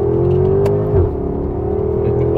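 A Porsche with a dual-clutch gearbox in manual mode pulls hard under acceleration, its engine note droning loud and steady with a brief shift blip partway through, heard from inside the car.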